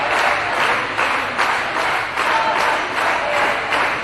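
A women's volleyball team and crowd clap together after a match, a loud, even stream of clapping with slight rhythmic swells, continuous and crowd-filled for a few seconds.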